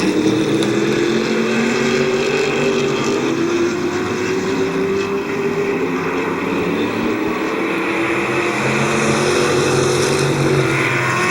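Stock cars race around a speedway oval, a continuous loud roar of several engines droning and shifting in pitch as the pack circles, steady and unbroken with no talk.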